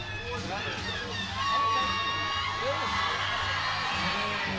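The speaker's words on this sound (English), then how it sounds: "Who's getting a lot of love from the crowd on that one" A large crowd at a strongman lifting event cheers and whoops loudly for a lifter named Rose, a sustained roar of yells and whistles swelling after the first second, with commentators talking over it.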